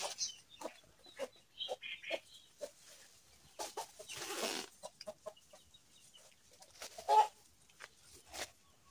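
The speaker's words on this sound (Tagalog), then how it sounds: "Ligaw na manok." A stray chicken clucks in soft, scattered bursts near a remote, empty hut, with quiet brief calls repeating irregularly and one slightly louder squawk.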